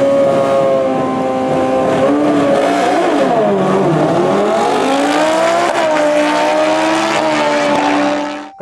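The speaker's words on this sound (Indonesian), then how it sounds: "Di sini ada motor balap." A toy racing motorbike gives off a loud, continuous high engine whine that dips and rises in pitch like an accelerating race machine, heard alone throughout.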